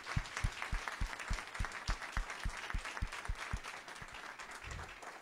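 Applause at a university division's annual activity report ceremony, heard as a fairly quiet, even clapping with distinct low thumps in a steady rhythm, fading toward the end.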